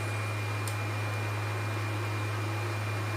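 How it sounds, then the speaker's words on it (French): A PS4 console's cooling fan gives a steady, loud whir with a constant low hum throughout, unchanging and close by. "je pense que vous entendez comme un gros ventilateur, c'est ma PS4 qui fait ça"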